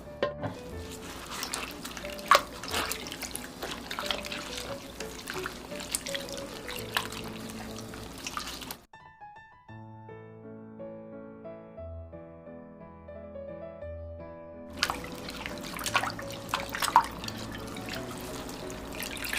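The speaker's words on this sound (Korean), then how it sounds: "물 2리터를 부어서 마지막으로 또 주물주물 해줍니다." Barley malt kneaded by hand in two liters of water for sikhye, giving close wet squishing and dripping sounds that stop briefly mid-clip while a short musical interlude plays, then resume.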